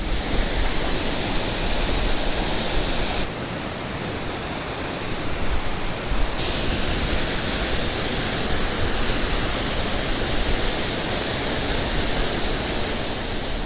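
Steady, roaring rush of a waterfall, loud and close, filling the whole clip with a dense broadband hiss and no voices.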